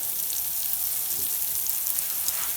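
Steady, soft sizzling and crackling of provolone cheese frying on a hot Ñuke Delta grill, a continuous hiss with no voices.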